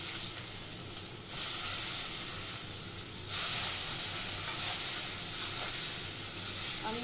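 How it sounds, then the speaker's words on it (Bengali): Eggplant pieces frying in a little oil, giving a steady close sizzle that swells louder twice as pieces shift, continuous and unaccompanied by talk. "এবার বেগুনগুলো অল্প তেলে ভেজে তুলে নেব।"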